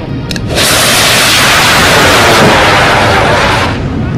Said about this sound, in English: the Nasrad built a very good rocket. And it took flight quite well, moving a considerable good amount of distance in air